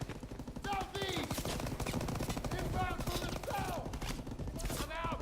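Dense rapid gunfire in the Call of Duty WWII beach battle, sustained machine-gun bursts mixed with chaotic combat noise and whistling effects, loud throughout with a voice speaking over the action.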